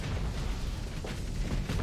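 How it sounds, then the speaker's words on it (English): Torpedo explosions in the space combat game Starsector form a dense, continuous rumble of overlapping booms and bursts, loud and unbroken from start to finish. "I love watching the torpedoes just do their thing."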